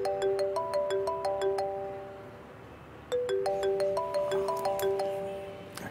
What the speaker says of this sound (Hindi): क्या हो गया रिदा, क्यों बार बार फोन कर रही हो तुम?